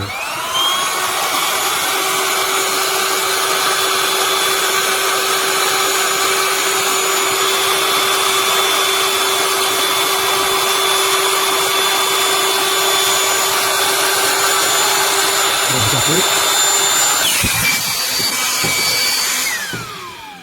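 A Penbinmall electric air pump (AC 240V/DC) deflates an inflatable ring outdoors with a loud, steady motor whine and airflow roar for about seventeen seconds. Its pitch then drops as the load changes, and the sound cuts off.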